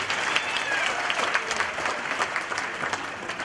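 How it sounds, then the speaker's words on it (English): Graduates at a language training college graduation ceremony clap for themselves, a dense, steady wash of applause from a crowd with faint voices underneath. "Can you clap hands for yourself?"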